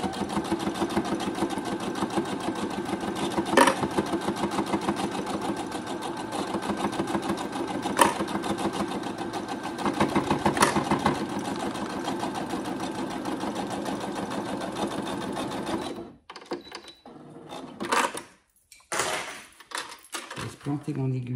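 A sewing machine runs steadily, stitching a fabric budget envelope with a dense, continuous mechanical whir. Near the end it stops, leaving quiet handling noises and short pauses.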